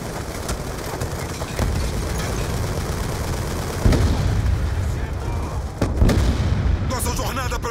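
Constant heavy gunfire and explosions roar in the PC video game Call of Duty: Black Ops II. Rapid automatic bursts and deep booms run through the whole clip at high volume, with a voice speaking under the din.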